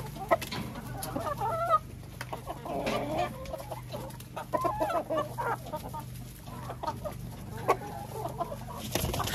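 Laying hens living on their own at a dacha cluck and murmur in a busy, irregular chorus nearby, with scattered sharper calls.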